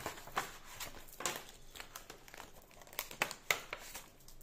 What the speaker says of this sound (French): sortir tout ce qui me reste dans mes enveloppes pour voir tout simplement où j'en suis